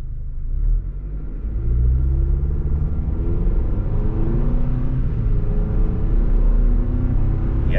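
A 2023 Chevy Colorado Trail Boss pickup engine accelerates with a steady, loud, building rumble heard from inside the cab, its drone rising over several seconds with no talking.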